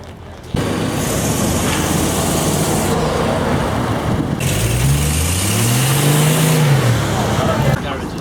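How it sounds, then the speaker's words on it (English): Volkswagen-powered trike with a single-port air-cooled engine revving at an outdoor car show, a steady loud drone rising and falling in pitch through two revs, with background talk. "A Volkswagen powered Trike."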